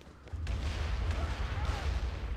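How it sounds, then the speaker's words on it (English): Dense, continuous battle noise of explosions and gunfire from the Wii U shooter Devil's Third, a sustained rumbling barrage with heavy low-end booms running throughout. "I don't like all those explosions."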